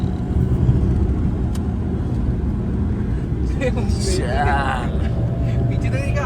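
A car drives along the road to Alibag with a steady, loud rumble of engine and road noise from inside the vehicle and a brief chirp near the end.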